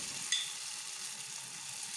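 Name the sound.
cauliflower frying in a pan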